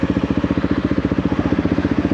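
A Honda CRF450RL dirt bike with an aftermarket exhaust putters at a steady low rhythm, a deep even pulsing drone close by with no voices.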